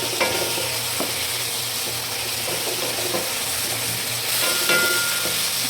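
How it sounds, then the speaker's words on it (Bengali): A steady sizzle of spice paste frying with tomatoes in a pan, with occasional scraping stirs over it and no talking. "টমেটোগুলো দিলেও একটু আমি কিছুক্ষণ মশলাটা কষাবো"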